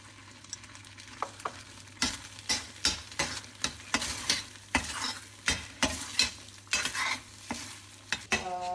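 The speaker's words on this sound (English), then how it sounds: "at this stage I'm going to add the ghee." Ghee being stirred into cooking rava kesari in a pan, a steady run of rhythmic scraping strokes, roughly two per second, over a soft sizzle, close and fairly quiet.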